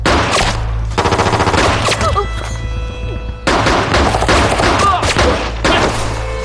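Loud, close gunfire erupts in several dense bursts of rapid shots, separated by short gaps, in a scene from a Chinese drama set during the war against Japan. Shouting voices may come through between the volleys.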